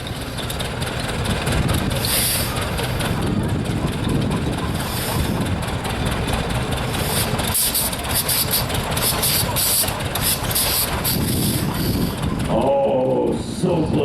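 Antique Hart-Parr tractor engine starting and running at a slow race, a loud, continuous low rumble with rough, uneven beats, heard close up outdoors.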